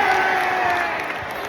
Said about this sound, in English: there is some cheering going on for Bombers supporters